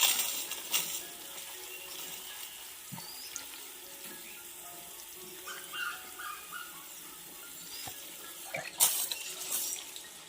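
Running water at a village home while things are washed: a faint, steady trickle from a tap with scattered soft clinks and splashes, fairly distant and quiet.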